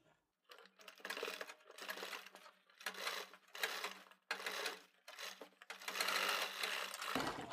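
Sewing machine stitching a kurti collar, close rapid mechanical whirring in several bursts separated by brief pauses, with a final short run.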